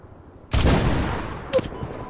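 Gunfire in the video game Medal of Honor (2010), a loud burst of shots starting abruptly and sustaining for about a second, followed by a second sharp report, with a voice speaking briefly.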